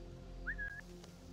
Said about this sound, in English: I definitely just whistled on accident